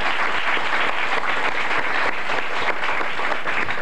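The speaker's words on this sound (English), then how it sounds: "Let's have a round of applause for these folks." A crowd applauds steadily throughout at a high school quiz bowl, dense clapping at an even, fairly loud level with no voices.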